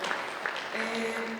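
A seminar audience claps steadily throughout, a dense, even patter of many hands with a faint voice and a low tone underneath.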